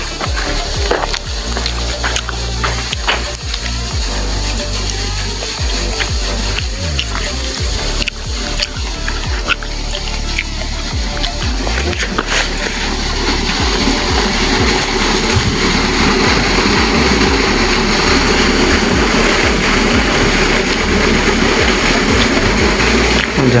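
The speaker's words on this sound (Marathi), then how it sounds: "त्याकडं मोटर चालली." An irrigation water pump motor runs in a farm field, a loud, steady, continuous drone with rushing water and wind noise, close by and with no talk over it.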